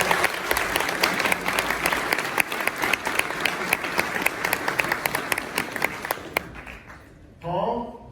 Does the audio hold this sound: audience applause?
yes